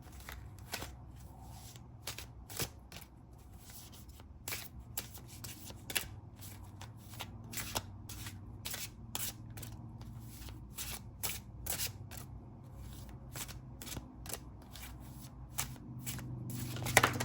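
Tarot cards shuffled by hand produce a rapid run of crisp riffling slaps and flicks, fairly close and steady throughout, over a faint low room hum.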